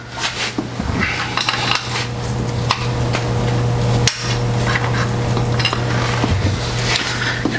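Metal clanks and scrapes against a steady mechanical hum as the tightening screw beneath a milling machine is loosened, with several sharp knocks spread through a continuous background drone in a machine shop.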